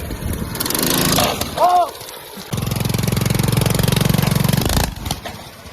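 A mini bike's small engine revs hard during a wheelie, a loud droning roar that rises, holds steady for a couple of seconds and then cuts back, with a brief voice shout in the middle.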